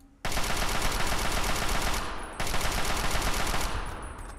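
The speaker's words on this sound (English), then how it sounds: "I just shoot at them." Video game gunfire in Fallout 3, a loud dense stream of rapid shots that runs for about two seconds, breaks briefly, then resumes as steadily as before, with no talking.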